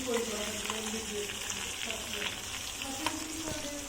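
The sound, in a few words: snakehead fish deep frying in pan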